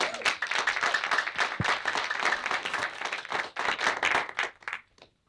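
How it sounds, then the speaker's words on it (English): A live audience at a Black History Month program claps in a sustained round of applause for the panelists, dense and steady for about five seconds before tapering off at the end. "Can everyone give all of our participants a round of applause one more time?"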